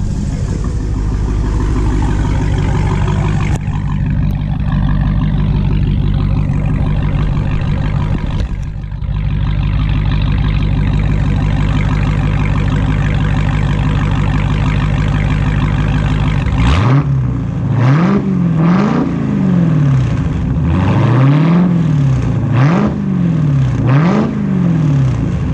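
A 2016 Dodge Challenger Hellcat V8 holds a loud, steady exhaust idle at close range, then after a brief pause gives a run of sharp repeated revs that rise and fall in quick succession, with no talking.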